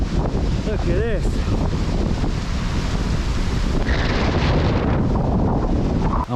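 Gusty wind roars and thumps against the microphone throughout, loud and unbroken, with a short burst of voice early on.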